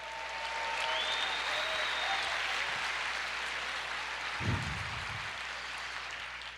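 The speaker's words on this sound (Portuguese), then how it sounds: "Você pode aplaudir o Senhor" A congregation in church applauds in a broad, sustained wash of clapping that fills the room, joined by a faint sustained tone and a short low thump near the end.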